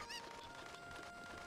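Cuccos, the chickens of Zelda: Ocarina of Time, cluck in a short game sound effect, with a bright squawking call near the start over a steady hum of background game music.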